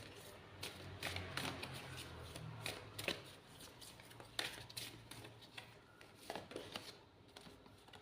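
Tarot cards being shuffled for a guidance-card draw during a reading, a run of quick soft riffling and flicking bursts through the whole stretch, fairly faint and close, with no talk over it.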